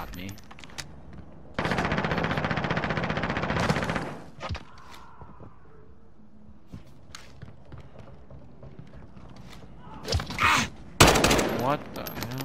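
Long bursts of rapid automatic gunfire in a multiplayer shooter video game, with a sustained volley followed by scattered shots and thumps, then renewed close bursts near the end.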